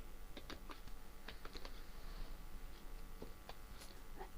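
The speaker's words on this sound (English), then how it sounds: "type from the keyboard" Keys tapped on a computer keyboard in short irregular bursts of crisp clicks, faint and close against a quiet background hum.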